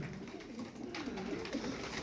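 Soft, low pigeon coos repeat quietly beneath a faint background hum, with no talking.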